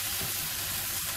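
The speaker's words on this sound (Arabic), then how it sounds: "نبقاو نحركو حتى بدا تهبط لينا البصلة مزيان." Onion frying in a pan while being stirred, a steady loud sizzle that fills the short stretch with faint scraping under it.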